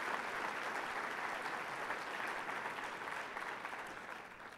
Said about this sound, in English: And Sarita Carter, can you give them a real big applause?